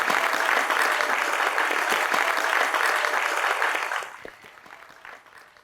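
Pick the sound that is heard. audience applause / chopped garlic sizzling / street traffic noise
audience applause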